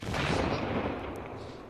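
A distant explosion sound effect played on a radio show, a broad rumbling boom with gunfire-like crackle that stays fairly loud and steady across the short clip, with no talk over it.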